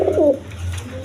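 A high-flying Giribaz pigeon gives a short, close cooing call, a low throaty murmur lasting about a second against a quiet background.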